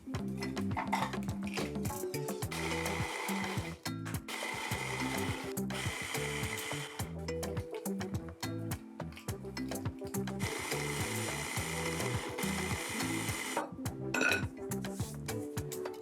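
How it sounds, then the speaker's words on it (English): A blender grinds 400 grams of plain white cookies into uniform crumbs, with a loud, rhythmic, pulsing mechanical whir and occasional clinks as it runs without pause. "Grind 400 grams of plain white cookies to a uniform crumb."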